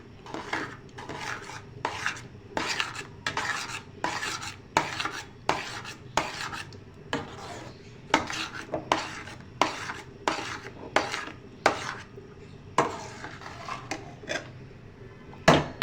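Semolina halwa being stirred briskly in a pan, a spoon scraping the thickening mixture in a steady run of rhythmic rasping strokes, close and clear with no talking.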